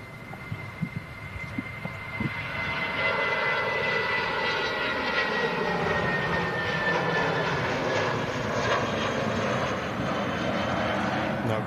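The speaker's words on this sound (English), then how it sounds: "Now goes the British Airways shuttle." British Airways shuttle airliner passing overhead, its jet roar swelling from faint to a loud, sustained rush with a whining engine tone, and a few bumps early on.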